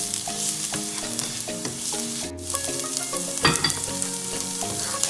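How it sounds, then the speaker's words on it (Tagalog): Garlic sautéing in a pan for buttered shrimp, a loud steady sizzle and crackle of frying close up, with light stirring scrapes over a background of soft music. "Saute the garlic. Until garlic starts to get toasted."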